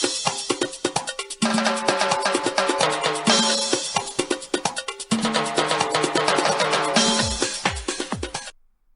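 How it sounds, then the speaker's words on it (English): Theme music from All Japan Women's wrestling for Manami Toyota, a busy, loud track with driving beats and layered melody that plays steadily and then cuts off abruptly near the end. "what you heard there was the All Japan women theme music of Manami Toyota"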